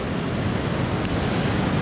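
Surf rolls onto a sandy Caribbean beach at Palomino, Colombia, as a loud, continuous wash of breaking waves, mixed with wind buffeting the microphone.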